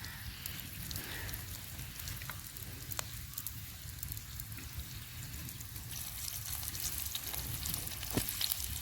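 Chopped onion sizzling in a large metal pot over a wood-fired earthen stove outdoors for a chicken curry, a steady close crackling fry with occasional sharp pops and a low background rumble.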